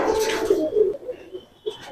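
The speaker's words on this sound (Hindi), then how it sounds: "ये थे टोंक वाले कबूतर" Tonk breed pigeons cooing close by, soft throaty murmurs in short repeated bursts with a faint higher chirp in the background.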